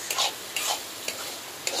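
A spoon scrapes and stirs masala frying in a kadhai, four sharp scraping strokes over a continuous close sizzle, with no talk.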